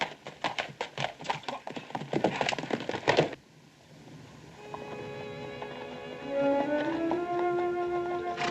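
Horse hooves clip-clop rapidly in a dense, uneven galloping rhythm for about three seconds on a western trail, then stop, giving way to quiet music.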